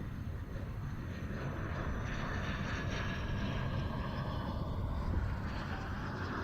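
A steady, loud roar from an Italian Air Force Panavia Tornado jet flying past at low speed over an air show, holding a constant rumbling wash for several seconds.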